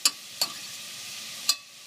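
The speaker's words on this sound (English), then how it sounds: "I'm stirring it up right now, but I'm going to leave it alone in a second." A spoon stirs a clam chowder base as it renders down in a cooking pot, giving three sharp scraping clinks against a soft, steady sizzle, fairly quiet and close, with no talk.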